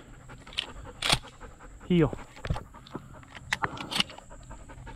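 Hunting dog panting in the field during a dove hunt, a quick breathy rhythm heard close up in short bursts, with a voice giving commands and a dog whimper partway through.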